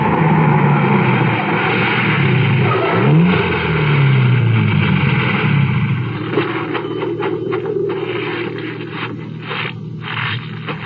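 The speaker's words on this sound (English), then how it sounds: "the next morning, I drove up to Pa Kenny's cottage camp" A car approaching and pulling up, used as a radio drama sound effect, with a steady engine drone and shifting pitch as it nears, loud and close, then settling toward idle with no voices.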